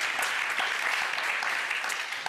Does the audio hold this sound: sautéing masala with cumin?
no